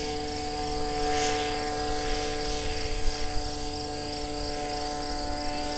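A powered hang glider's small engine drones at takeoff on an airfield, a steady high buzzing whine with a slowly shifting pitch that swells slightly and holds at moderate distance.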